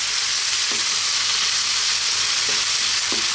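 Smoky hickory barbecue sauce being stirred into cooked chicken in a pan just off the heat, producing a steady close sizzle and hiss with a few faint utensil scrapes against the pan.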